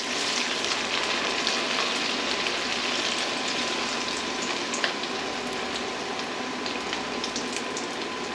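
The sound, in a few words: chicken parmesan frying in hot oil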